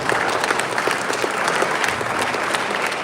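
Conference audience applauding dignitaries and keynote speakers, a dense, steady round of clapping from a large crowd filling the hall throughout.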